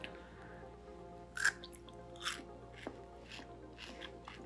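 Someone bites into a crunchy Dubai chocolate bar filled with kataifi, kept for weeks. A few sharp, close crunches are followed by quieter chewing against a faint background hum.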